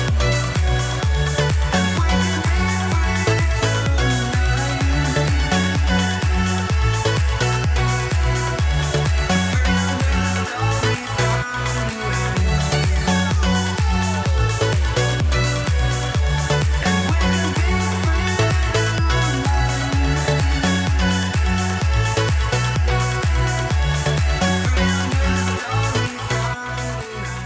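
A steady electronic dance track with a punchy kick, deep bass line and bright synth chords repeating in a loop, loud and continuous throughout.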